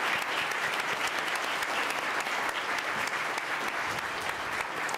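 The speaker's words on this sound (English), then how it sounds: "let's give them a big round of applause" Spectators at a county spelling bee applaud, with dense, even clapping from a crowd in an indoor hall that holds steady for several seconds with no speech on top.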